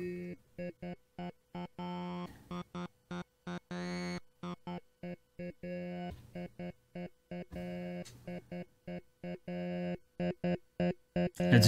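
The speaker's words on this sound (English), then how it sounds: "One of my favorite patches is the talking filter, which sounds like this." A Joranalogue Filter 8 synthesizer module in a talking filter patch: a sustained tone gated into choppy, rhythmic bursts, with vowel-like sweeping resonances that shift from burst to burst.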